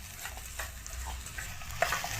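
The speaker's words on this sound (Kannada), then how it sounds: "ಗೀರ್ ರೋಸ್ಟ್ ಮಾಡ್ತಿರೋದು, ಚಿಕನ್ ಗೀರ್ ರೋಸ್ಟ್." Chicken ghee roast sizzling in a pan as a spoon stirs it, with a steady frying crackle and soft scraping strokes, close and continuous over a short stretch.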